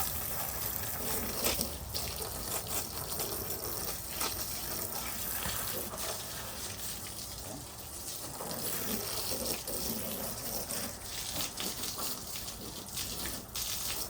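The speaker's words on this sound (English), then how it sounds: "I'm gonna grab my hose and actually rinse the headlights really good" A garden hose sprays water over a car's headlights, giving a steady, close rushing wash with small shifts in intensity for the full length, and no talking.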